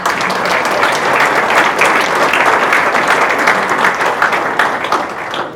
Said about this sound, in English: Let's give them our nice round of applause.